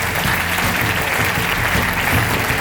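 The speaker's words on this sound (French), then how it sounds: "Allez, on les applaudit bien fort tous les 5." Steady applause from an audience at the Pierres d'Or awards ceremony, honoring the five nominees for the Avenir category; dense, continuous clapping throughout with a faint murmur of the crowd beneath.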